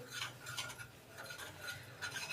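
Gram flour is stirred in oil in a pan with a spoon, giving soft, repeated scraping strokes in a quiet, even rhythm, close and faint.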